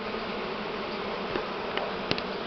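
A large swarm of Buckfast honey bees buzzes in a dense, continuous drone, with a few individual bees passing close as brief louder streaks.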